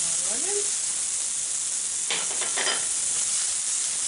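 Onions sautéing in hot canola oil for green beans almandine give a steady broadband sizzle throughout, with a brief burst of louder crackling midway as they are stirred.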